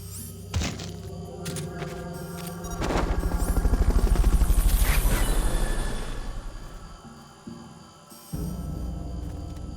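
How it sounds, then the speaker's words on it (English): A helicopter in the video game Metal Gear Solid: Peace Walker passes close, its rotor thumping in a fast pulsing beat that swells to a loud peak and fades, with heavy thuds before and after. "Fulton recovery subject confirmed onboard helicopter."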